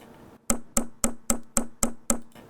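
Seven sharp, evenly spaced taps on a desk, close and clear, each with a quick decay and a bright ringing edge.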